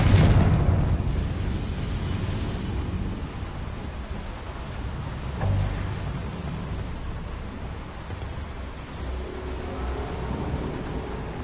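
A Confringo fire spell in the Hogwarts Legacy video game goes off with a sharp blast, followed by a long rolling rumble and a second thump partway through.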